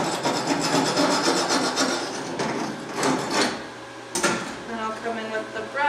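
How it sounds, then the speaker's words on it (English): Spatter is scraped from the nozzle of a Forney Easy Weld 140 FC-i MIG welder, a gritty metallic rasping in repeated close strokes with a sharp knock partway through. "So I'm just going to scrape off some of that spatter from the sides here."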